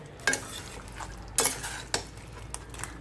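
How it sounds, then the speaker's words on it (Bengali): Catla fish being stirred and sautéed with spices in a pan, a few sharp scraping clinks of the spoon over a low, steady sizzle. "তো মাছটাকেও একটু এটার সাথে মিশিয়ে কষিয়ে নেব।"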